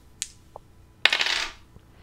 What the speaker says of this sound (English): we roll the dice. We've got 2 dice